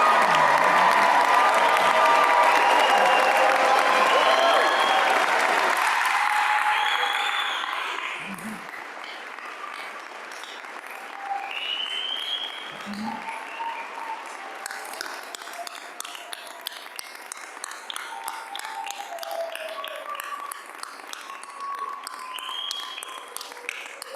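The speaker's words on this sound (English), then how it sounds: "Would you please now stand and join me in applause for the 2024 Warner School of Education and Human Development graduates" A large audience applauds graduates of the 2024 Warner School of Education and Human Development at a commencement ceremony. Loud, dense clapping with some cheering fills the first six seconds, then thins to softer scattered clapping and murmuring that carries on to the end.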